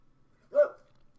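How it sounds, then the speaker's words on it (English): A dog gives a single short, muffled bark in the background, faint and brief against a quiet room. "I've got my dog in the background."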